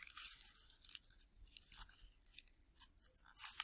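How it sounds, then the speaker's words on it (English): Paper crumpled by hand to make a dense papier-mâché core, giving close, crisp crinkling and crunching in irregular bursts with brief pauses between squeezes. "I'm going to take this piece and crumple this"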